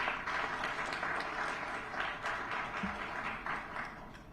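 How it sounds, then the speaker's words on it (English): A live audience applauds in a hall to welcome the Vice President at a broadcast and digital media convention, with steady, dense clapping lasting throughout and no talk over it. "Let's give another round of applause to welcome the Vice President."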